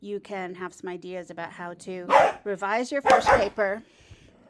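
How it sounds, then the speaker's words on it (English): A dog barks in the background, a few sharp barks mixed in with a person speaking steadily in the foreground. "Sorry about the barking."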